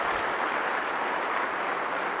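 A lecture audience claps together in a dense, steady wash of applause that holds an even loudness throughout.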